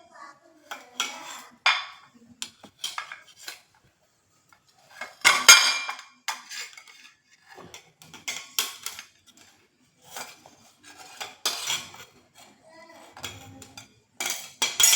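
Steamed wheat puttu being pushed out of its metal mould, a series of close metallic scrapes, clinks and rattles in short irregular bursts separated by brief silences.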